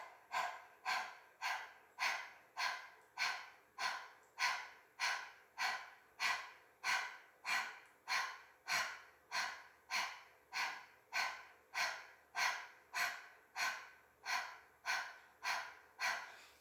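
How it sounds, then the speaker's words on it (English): Rapid, rhythmic panting breaths from a Breath of Fire yoga breathing exercise, about two forceful exhales per second, steady and close throughout with no talking. "So start panting like a dog."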